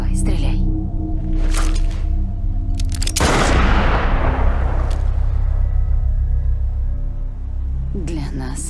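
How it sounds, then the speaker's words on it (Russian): A single heavy gunshot booms in the video game Death Stranding and rings out in a long, loud decay. Low droning game sound and voices run beneath it. "Давай, стреляй."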